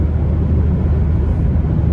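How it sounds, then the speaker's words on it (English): Steady, loud wind and road roar inside a 2023 Mazda MX-5 Miata RF Grand Touring hardtop while driving, as a continuous low rumble with no talking. "with the hard top, the wind noise is not great, but it's not, I mean, it's pretty loud in here"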